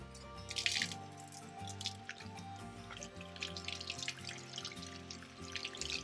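Water poured onto an orchid plant to soak it, trickling and dripping steadily through the potting material, close and moderately faint, with soft musical tones underneath.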